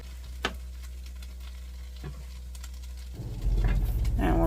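Hash browns frying in a pan at a campsite, a steady low sizzle with occasional faint taps and scrapes that swells louder toward the end.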